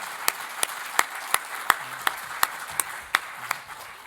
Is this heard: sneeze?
no